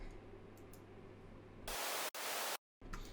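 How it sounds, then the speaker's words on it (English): Harsh burst of white noise synthesized in Spire, a flat hiss cutting in and out abruptly, with a brief silent gap near the end. "we've just got a white noise just to add a bit of grit to it"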